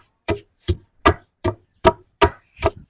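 Jaffna coconut sambal with fried chili and rock salt pounded by hand in a village kitchen, seven evenly spaced, heavy thuds about every 0.4 seconds, close and clear with silence between strikes.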